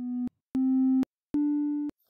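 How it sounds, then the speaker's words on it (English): Three separate sine wave notes from a VCV Rack oscillator, each sounding steady for about half a second. Every note starts and stops with a sharp click or pop, and the pitch rises slightly from one note to the next. "Now you're hearing a lot of clicks and pops every time I play a single note."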